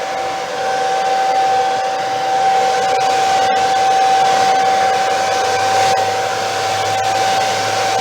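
A hair dryer with a piece of tape on its standard nozzle attachment blows steadily and loudly up close, a constant whirring hum with a high whine that holds throughout with no talking.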